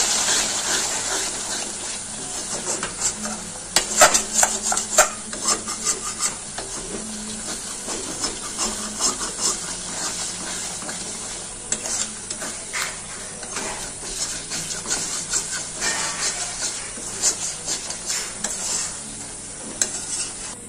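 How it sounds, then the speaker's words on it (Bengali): Masala for dhaba-style egg curry frying in a pan as water goes in, a continuous close sizzle with scraping spoon strokes and bubbling, no voices. "এবার আমি জল দিয়ে দেবো অল্প করে।"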